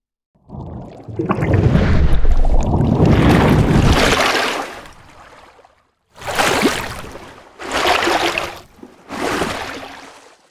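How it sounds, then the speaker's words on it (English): Water movement sound effect made with a Reformer Pro, with one long swishing surge followed by three shorter sloshing bursts, close and fairly loud. "That's how I triggered water movement for a scene."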